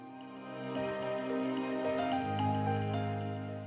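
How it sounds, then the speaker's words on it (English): Steady running water pours over freshly cleaned Dungeness crabs during a rinse, a continuous close wash with shifting tone and no talking. "Now I'm gonna rinse them out really good"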